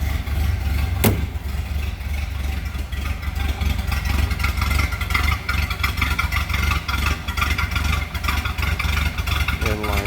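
A 1929 Ford Model A's 201 cubic inch water-cooled L-head inline four-cylinder engine runs steadily at idle, a low chugging rumble with light mechanical clatter throughout.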